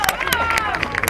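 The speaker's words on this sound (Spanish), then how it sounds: "Vamos, un aplauso para estos 3" An audience at an international athletics meet in A Coruña applauds three medalists, with scattered claps over a continuous crowd murmur while a voice speaks.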